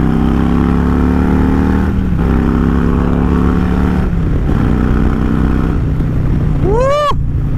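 Harley-Davidson Stage 2 117 motorcycle engine running loud and close, a steady low rumble that dips and recovers, then a sharp rising rev near the end.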